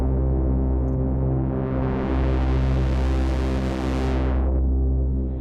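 A sustained tone from a 5-voice analog synthesizer with layered droning harmonics, brightening and swelling in the middle before the upper sheen drops away near the end.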